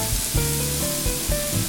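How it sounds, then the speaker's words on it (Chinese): Minced scallion, ginger and garlic sizzle in hot olive oil in a flat frying pan, a bright continuous crackle with a few pulsing bursts and faint clanks, close and unaccompanied by talk. "将葱姜蒜末爆香。"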